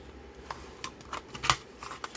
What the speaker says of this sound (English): I'm going to bring my small trimmer out.